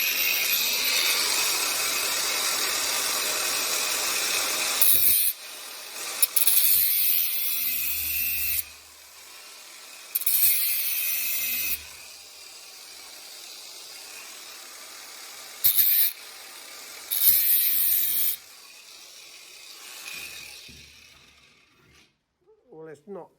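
A halfshaft bearing is cut with a steady, harsh mechanical grinding that runs nearly continuously and then tails off. It is broken by several short, sharp metallic screeches and thuds, with no talk.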